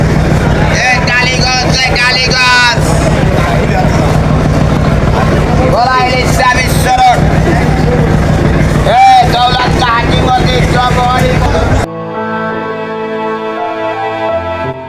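Busy Sadarghat river port in Dhaka heard from aboard a launch: a constant engine and water rumble with wind buffeting, crowd chatter and loud voices throughout, and a burst of music in the last few seconds.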